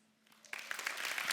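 Applause breaks out from a conference audience, building suddenly into a dense, steady clatter of many hands that fills the room and holds at full strength.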